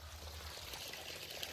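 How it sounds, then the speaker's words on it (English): Water pours and trickles through a hollow log with its top cut out, in Cimarron Canyon beside a road; a steady, soft, close wash of flowing water runs throughout with no voices. "with water running through it."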